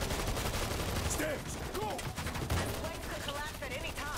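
Rapid gunfire bursts in the World War Z video game rattle densely under excited voices and game effects, with layered shots and whooshing sounds throughout.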